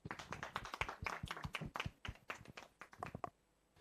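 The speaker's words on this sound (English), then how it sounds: "we got a round of applause from the room" A small room at an education and healthcare policy roundtable claps: distinct, separate hand claps from a modest group, quick and uneven, faint and somewhat distant, trailing off after a few seconds.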